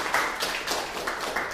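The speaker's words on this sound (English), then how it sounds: "Please give a big round of applause for all the role players." Applause from a Toastmasters club meeting audience, a modest round of clapping with a few distinct louder claps standing out, fairly close and steady.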